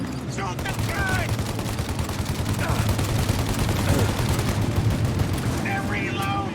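Sustained shootout gunfire from Mafia Definitive Edition, with dense, rapid bursts of shots that rattle continuously and loudly over game ambience while voices shout intermittently.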